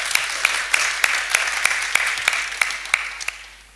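Hustings audience applauding in a hall, a steady wash of many hands with a few sharp individual claps standing out, fading toward the end.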